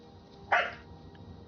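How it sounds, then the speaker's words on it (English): A dog gives one short, sharp bark close by indoors in a house with several dogs, followed by quiet room tone. "no barking"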